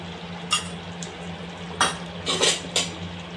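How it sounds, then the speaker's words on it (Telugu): Ghee being stirred into a thick coconut milk mixture for traditional laddu, with a few distinct scraping, clinking spoon strokes against the pan over a low steady hum, no talking. "ఇది దీనిలో ఇప్పుడు నెయ్యిని యాడ్ చేసుకొని బాగా కలుపుకోవాలి"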